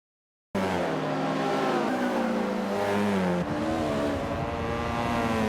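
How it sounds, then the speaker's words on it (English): Race cars in Forza 5 at Laguna Seca during a touring car championship race stream past with steady, loud engine roar and shifting pitch, a continuous close drone of several cars that starts abruptly and holds throughout. "Oh, look at all the cars filing past him."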